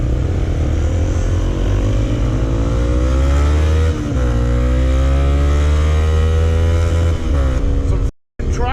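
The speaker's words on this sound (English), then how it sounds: "Some traffic going on here, like." Traffic passes steadily on a road near Stonehenge on Salisbury Plain, with loud, close engine drone and gliding pitch sweeps as vehicles go by, ending in an abrupt cut.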